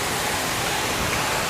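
A waterfall roars inside a cave near Kanyakumari, a loud, steady broadband rush of falling water close by with no voices.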